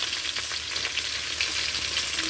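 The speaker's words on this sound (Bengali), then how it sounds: "এই যে মরিচ ভাজা হয়ে গেছে, এবারে শাক দিয়ে দেবো" Greens, including red amaranth, bathua and telakucha leaves, hit oil with fried chillies in a pan, producing a loud, continuous sizzle and crackle with occasional stirring scrapes and no voices.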